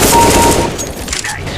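Rapid gunfire in Counter-Strike, a loud close burst of shots with a voice murmuring underneath.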